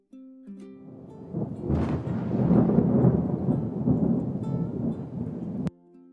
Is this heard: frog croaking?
no